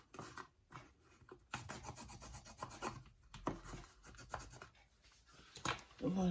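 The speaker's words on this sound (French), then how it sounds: "Je vais venir bien appuyer le papier." Paper is pressed and rubbed firmly by hand while a paper beach bag is assembled, giving close, faint scratchy rasping strokes in an irregular rhythm.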